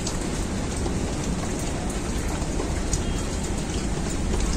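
Light drizzling rain falling outside a home kitchen, heard as an even, continuous patter and hiss that holds steady with no voices over it.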